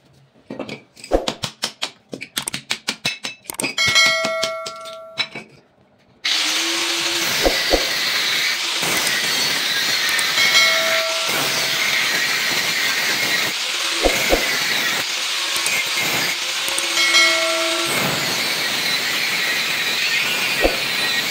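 A water motor being cut open to get at its copper winding: scattered clanks and rattles at first, then a loud, continuous harsh cutting roar with small shifts in pitch that runs to the end.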